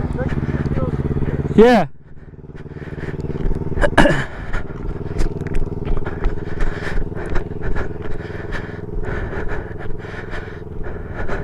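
A motorcycle engine ridden by a learner rumbles steadily up close, rising in a sharp rev before dropping, then idling and pulsing again with small throttle blips, while people speak briefly over it.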